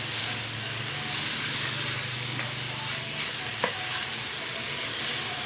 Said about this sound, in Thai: ลงไปคั่ว ไม่ต้องใส่น้ำมันนะ ใช้ไฟปานกลาง